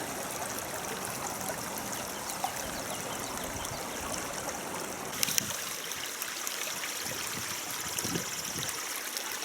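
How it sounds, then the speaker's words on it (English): A mountain creek, McGaw Creek on the TP Creek cabin trail, flows steadily close by, a continuous rushing trickle with a few brief splashes and knocks. "McGaw Creek on the TP Creek cabin trail, just south of the cabin."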